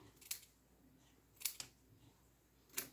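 Scissors snip through a lace thong in three sharp, separate cuts, each a bright crisp crunch with quiet pauses between, close and fairly faint, with no talking.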